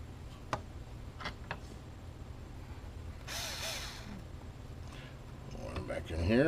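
Small screws are worked out of a Lenovo ThinkCentre M72e Tiny PC, giving faint clicks and a brief whirring of a screwdriver at close range over a low background hum.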